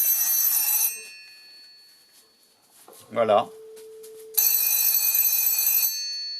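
An old mechanical telephone bell of a SOCOTEL S63 phone, connected to an internet box through a converter, rings loudly in two bursts, separated by a pause in which a voice briefly speaks.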